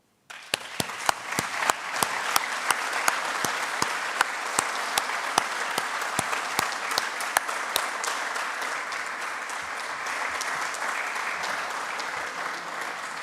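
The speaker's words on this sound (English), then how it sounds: "join me to offer a round of applause to all those who were part of the conference" Sustained applause from a forum audience at the closing of a regional cooperation conference, a dense, steady wash of many clapping hands with some sharper individual claps, continuing for over ten seconds without talk.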